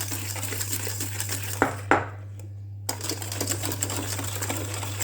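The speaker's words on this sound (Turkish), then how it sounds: "İyice beyazlayacak kadar çırparsanız o kadar güzel kabarır." Soufflé batter being whisked until pale, likely with an electric mixer: a steady close motor hum with busy rattling strokes in the bowl, cutting out briefly midway with a couple of knocks before resuming.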